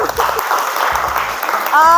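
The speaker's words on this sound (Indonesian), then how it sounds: "tepuk tangan" An audience in a classroom teaching session claps briefly, a short burst of applause mixed with talking voices, fairly close and loud.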